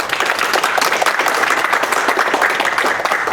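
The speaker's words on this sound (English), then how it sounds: "Can we please get a round of applause for our panelists?" A room of attendees applauds the panelists at a United Nations human rights policy event, a dense, even burst of clapping that stays strong throughout.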